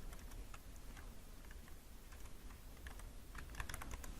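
A command typed on a computer keyboard, a faint, steady patter of soft key clicks in an irregular rhythm over quiet room noise, with no speech.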